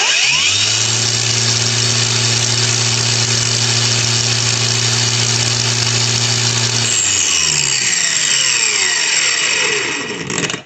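A DRIVAK AG001 cordless angle grinder runs at third speed, a loud steady motor whine with strong tonal hum that holds for about seven seconds, then drops in pitch as it spins down near the end.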